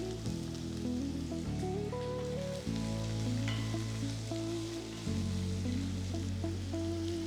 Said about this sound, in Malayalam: എണ്ണ നന്നായിട്ട് ചൂടാകുമ്പോൾ ഇതിലേക്ക് ഒരു 2 മീഡിയം സവോള സ്ലൈസ് ചെയ്തത് ചേർക്കാം